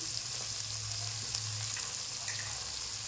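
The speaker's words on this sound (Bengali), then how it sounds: "তেলের ওপর হলুদ দিয়ে দিলাম, আর এই যে নুন দিয়ে দিলাম," Turmeric and salt hit hot frying oil in a pan, giving a continuous, even, crackling sizzle close to the mic with no voices.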